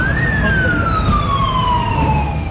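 Fire engine siren wailing loudly at a fire at the National Museum of Natural History in Delhi, a rising then slowly falling tone over a steady road rumble, close and continuous.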